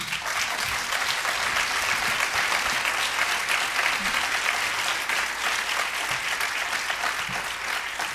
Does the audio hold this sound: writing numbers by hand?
no